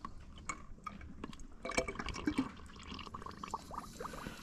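Coolant poured from a bottle, a faint close run of irregular gurgling glugs and splashes as the liquid flows out unevenly.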